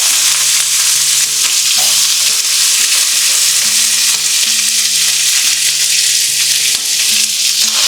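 Onions, shahi jeera, whole spices, mint and green chillies frying in hot oil for homemade chicken dum biryani, a loud, dense, continuous sizzle up close with faint stirring knocks underneath and no voices.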